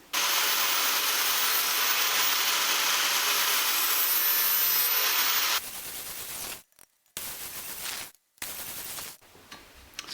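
A lawnmower blade being sharpened, heard as a loud, steady, harsh grinding hiss for about five seconds, then shorter broken bursts of grinding separated by brief pauses, close up with no talking.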